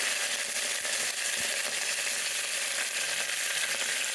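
Curry leaves sizzling and crackling in hot oil with mustard seeds and lentils for tempering a broad bean curry, a steady dense hiss with scattered pops and snaps, close and continuous.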